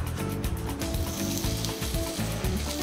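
Beef tongue and wagyu sausage sizzle on a grill in Hokkaido, a loud, close, continuous crackling hiss with faint ticking underneath and no talk.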